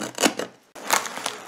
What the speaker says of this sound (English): I'm using my fabric scissors